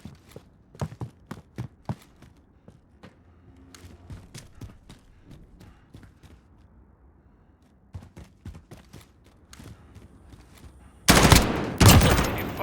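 M4A1 rifle with a muzzle brake fires in Modern Warfare, sharp single shots and short bursts scattered across the clip, ending in a loud sustained burst of rapid automatic fire.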